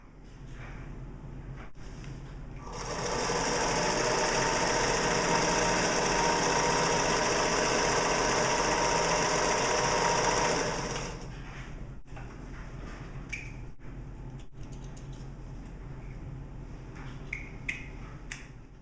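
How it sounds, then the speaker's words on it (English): A sewing machine stitches the end of a fabric stuff sack closed, running in one steady, loud whirring burst of about eight seconds, framed by quieter handling clicks and rustles before and after. "Using a 3/4 inch seam allowance, now sew this end of your bag closed"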